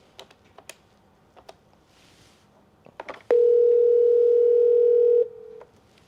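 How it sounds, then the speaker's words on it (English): On a Grandstream office desk phone, several short keypad clicks and presses come first, then a loud steady dial tone holds for about two seconds and drops to a quieter tone before cutting off. "to dial an inter-office extension, dial the extension"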